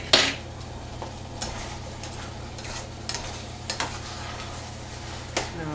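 Pan of shepherd's pie filling cooking on the stove, a steady low sizzle under occasional clinks and scrapes of a utensil stirring against the pan, close and quiet without talking.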